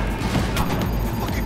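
A grenade explosion in the shooter game Cyberpunk 2077 lands amid loud, dense combat noise, with a sharp crashing burst partway through and steady rumbling gunfire around it.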